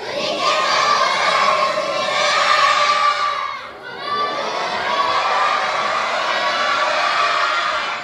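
Children's church congregation cheering loudly and shouting together while waving hands, a dense sustained roar of many young voices with a brief dip midway before swelling again.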